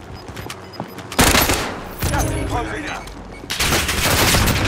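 Gunfire in Call of Duty Warzone on Rebirth Island, with loud sudden bursts of shots and rattling automatic fire that stay close and intense throughout.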